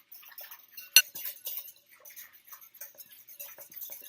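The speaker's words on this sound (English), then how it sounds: "we're going to dissolve it. So we're going to do that by stirring it" Yeast being stirred to dissolve it for a fermented dough, a spoon giving quiet scattered clinks and taps against the bowl, with one sharper knock near the start, close by and faint.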